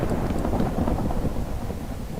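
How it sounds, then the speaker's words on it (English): Low, rolling rumble of Minecraft thunder following lightning, a steady broad roar throughout with no distinct cracks. "I don't know why that lightning continues even after the storm ends."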